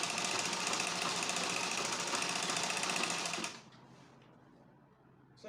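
A sewing machine stitches lining onto a pencil skirt in a fast, steady run of needle chatter for about three and a half seconds, then cuts off, leaving a quiet room.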